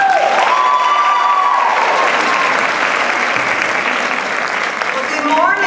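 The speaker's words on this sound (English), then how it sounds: "huge hand clap." Audience gives a big round of applause before a talk, loud sustained clapping with some cheering and a voice heard over it.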